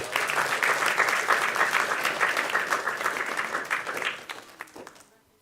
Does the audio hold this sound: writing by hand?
no